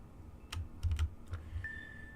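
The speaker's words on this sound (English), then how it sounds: "the keyboard's as high as the music with a new mic." Computer keyboard typing picked up by a new microphone during a Minecraft Hardcore session, heard as a handful of irregular close key clacks over low background hum, with no talking.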